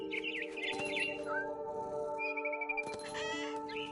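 A frightened bird calls repeatedly in a video game, with chirping, tweeting calls and a crow-like caw over a steady tonal ambient drone.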